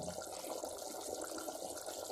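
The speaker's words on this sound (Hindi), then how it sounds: "मटन जो है वो उबलने लगा है" Old Delhi-style mutton curry bubbling steadily in a pot, a close, continuous simmering hiss and gurgle with no voices over it.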